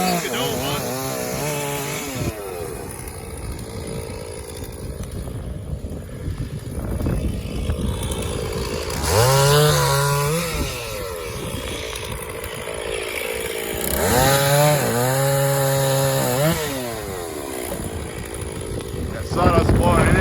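A Stihl MS460 chainsaw bucks an elm tree, its engine droning loudly and rising to high-revving bursts under load twice during the cut, with people talking over it.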